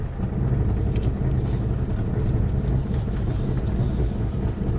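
A SsangYong Musso Saracen pickup creeps down an icy off-road slope with hill descent control engaged, giving a steady low rumble and drone from inside the cab with faint intermittent clicking pulses, loud and continuous.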